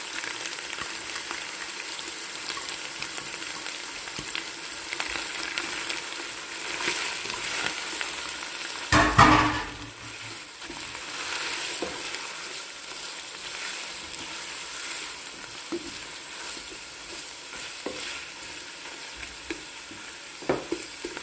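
Chopped onions, about 250 grams, frying in a pan with mutton for a cauliflower and meat curry, a steady close sizzle running throughout with a brief louder burst of spatter partway through.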